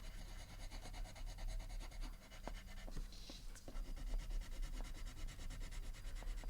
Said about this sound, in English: heavy pressure. This is the burnishing.